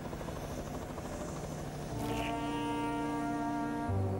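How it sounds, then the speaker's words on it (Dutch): A cartoon helicopter in a children's animated show gives a steady, droning rotor buzz that swells louder midway and holds on with a low foghorn-like hum, loud and close, with no talking. "Een helikopter."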